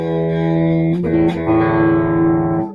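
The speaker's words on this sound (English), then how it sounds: "This is the distortion." An electric guitar played through a distortion pedal in a doom metal style, with loud sustained, fuzzy notes that shift pitch once before fading.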